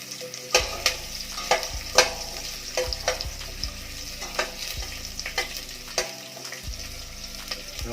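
Tomatoes stirred into onions frying in a pan, a steady sizzle with frequent sharp clicks and scrapes of a utensil against the pan, close and continuous.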